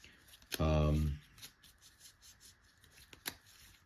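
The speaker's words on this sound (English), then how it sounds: "Let me just reshuffle this real quickly." A deck of trading cards gets a quick shuffle, a single loud riffling burst lasting under a second, followed by faint handling clicks while someone speaks at the table.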